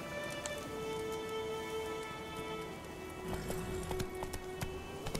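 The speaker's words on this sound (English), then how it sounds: "Luckily, Geralt can always count on his horse, Roach, to help him in his travels" Roach, a horse in The Witcher 3 video game, gallops with steady, close clip-clop hoofbeats over a soft outdoor ambience and a faint sustained musical tone.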